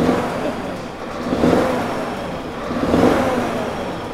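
A Scania 770 S V8 truck with a custom exhaust stack is revved while standing, giving two swelling, moderately loud blips about one and a half seconds apart over a low rumble.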